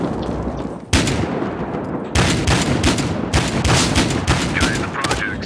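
SPAS-12 shotgun blasts in the video game Battlefield Hardline, a loud sharp report near one second followed by a dense stretch of repeated close gunfire and overlapping shots through the rest, with faint background voices.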